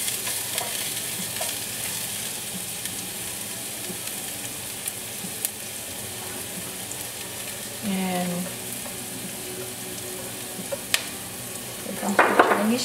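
Garlic frying in fat in a pan, a steady close sizzle with a spatula stirring and scraping, a short burst of louder bubbling midway and a clatter of utensils near the end.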